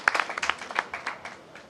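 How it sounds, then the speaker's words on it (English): An audience claps for a victorious returning athletics team, a brief burst of scattered, moderately distant applause that tapers off within a couple of seconds, with no talking over it. "Give them a round of applause."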